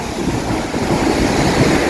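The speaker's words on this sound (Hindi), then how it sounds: "ये समुंदर की लहरें बार बार आ रही है और मिट रही है," Sea waves breaking on Marina Beach in Chennai make a steady, close surf roar with wind buffeting the microphone, and no voices are heard.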